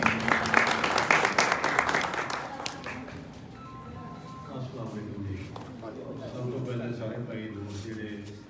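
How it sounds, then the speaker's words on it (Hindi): Audience applause at a pigeon-fanciers' gathering in Sahiwal, Pakistan, a loud burst of clapping that fades after a few seconds into a crowd murmur with people talking over it. "अपनी तालियों की गूंज में"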